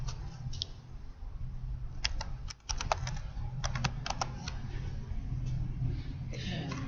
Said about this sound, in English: And I'm going to start typing before the cursor.